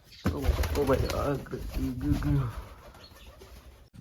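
Domestic pigeons kept by a fancier, a flock fed millet, coo close by in a run of soft, throaty, rolling calls for a couple of seconds before fading into quieter background noise.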